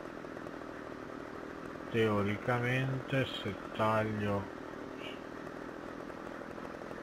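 A chainsaw cuts firewood while felling a tree, its engine droning steadily throughout as someone speaks briefly over it in Italian.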